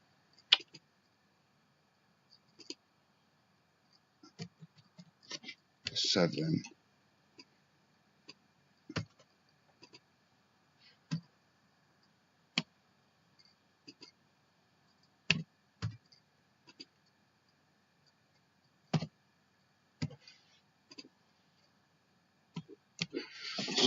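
Computer mouse clicking during video editing, sparse sharp clicks scattered irregularly through a quiet room, with one short burst of rapid clicking partway through.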